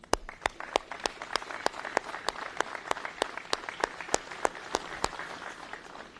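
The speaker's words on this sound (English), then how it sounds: "I think you all deserve a round of applause too" A crowd at a homecoming for USAR Task Force 4 applauds the task force members' families with steady, sharp claps of even rhythm throughout, moderately close.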